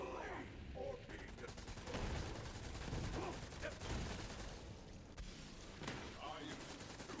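Rapid bursts of gunfire from a shooter video game crackle through a dense, busy mix of game effects and music, with a voice talking over the action.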